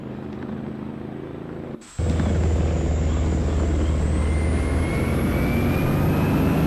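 A helicopter flies over a desert route, a loud steady rotor and engine drone that jumps sharply in level partway through and then holds constant, with a faint whine rising above it.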